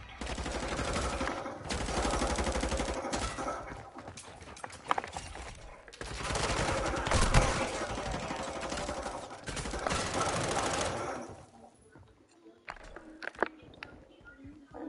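Automatic gunfire from an online Call of Duty Modern Warfare 2 match, sustained bursts and dense rattling volleys over about eleven seconds, then sparse scattered shots as the firing dies down.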